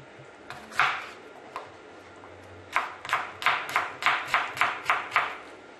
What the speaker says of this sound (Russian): Чеснок я обычно режу.